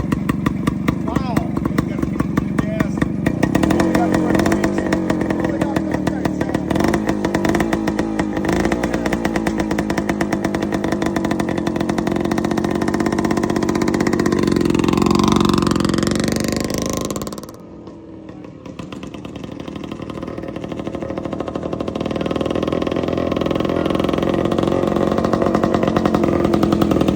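Harley-Davidson Hummer two-stroke motorcycle engine running with a rapid, raspy, buzzing putter, revving up and down with a brief dip near the end before picking back up, close and loud throughout.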